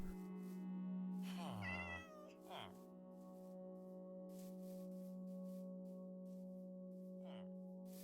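A cat meows in Minecraft, one drawn-out, wavering meow followed by a shorter second call and a faint later one, over a steady humming game tone.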